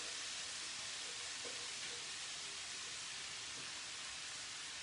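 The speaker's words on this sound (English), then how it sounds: "this ghee has melted, so I'm just going to add the onions." Onions sizzle in melted ghee in a pan, a constant broad hissing fry heard close and alone.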